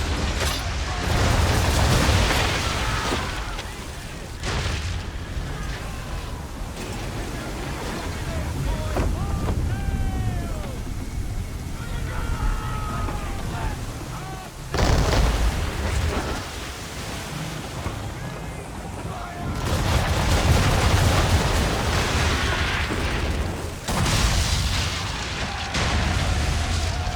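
Stormy sea waves crash around a ship amid cannon fire in the Assassin's Creed 3 video game, with repeated booming surges and continuous roaring surf over 27 seconds.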